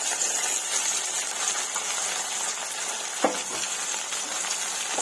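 Tomatoes, green chilies and curry leaves fry with onion in hot oil for a fish curry, a steady close sizzle with a single sharp clink of the stirring spoon partway through.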